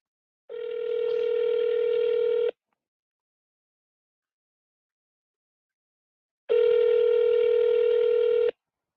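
Two long ringback tones of an outgoing telephone call, each about two seconds, separated by a silent gap of roughly four seconds, clear and steady.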